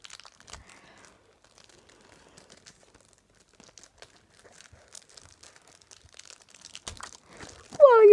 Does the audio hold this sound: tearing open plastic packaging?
yes